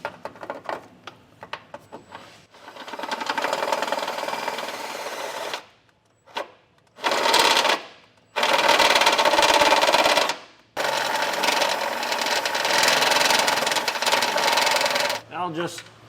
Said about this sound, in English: Now we're going to use a step bit in order to enlarge this hole.